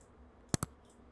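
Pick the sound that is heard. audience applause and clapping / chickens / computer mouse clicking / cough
computer mouse clicking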